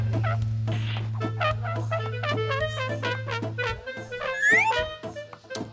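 Bird creature in the Roblox game Book of Monsters giving a loud, gobbling, turkey-like call, rapid warbling bursts over a constant low game drone, with no voices.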